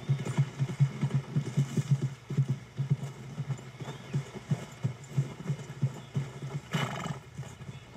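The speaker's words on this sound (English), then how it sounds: "¿Llevo mi caballo o me voy a pie? Vámonos en mi caballo." Horse hooves in the Red Dead Redemption video game, a steady close clip-clop at walking pace that continues throughout, with a short snort or whinny near the end.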